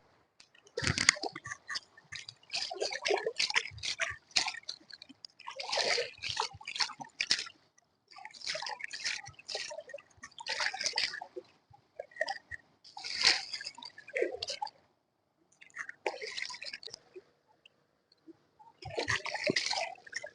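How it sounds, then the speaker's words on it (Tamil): Cut and gutted katta fish being washed by hand in water: quiet bursts of splashing, sloshing and dripping separated by short pauses, close by with no talk. "மீனை நல்லா சுத்தமா கழுவி எடுத்துரும்"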